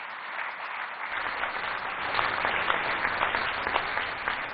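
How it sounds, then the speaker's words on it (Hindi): Audience applauding award winners at a summit and awards event, a dense sustained round of clapping from a large crowd that swells slightly partway through, heard through a band-limited, slightly muffled recording. "एक बार सभी विजेताओं के लिए जोर से तालियां हो जाएं"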